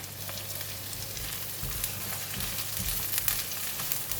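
Bok choy stems and onions frying in a wok with fish cake and chili, a close, continuous crackling sizzle with occasional low thumps of stirring beneath.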